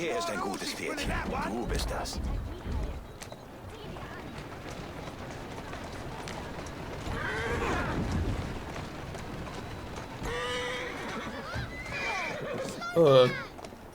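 Horse in Assassin's Creed Syndicate neighing loudly several times amid clopping hooves and busy game ambience, with someone speaking at intervals throughout.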